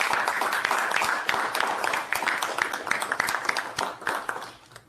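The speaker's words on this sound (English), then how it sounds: "I request all of us present to give a very huge round of applause for all the technicians." Audience applause for technicians at a flag-off ceremony for a straddle carrier and girder transporter on a high-speed rail project, a sustained crowd clapping, moderately loud, tapering off toward the end.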